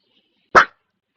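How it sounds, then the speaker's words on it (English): A dog gives a single sharp, loud bark very close up, right beside the listener, with silence before and after. "You're barking right in my ear."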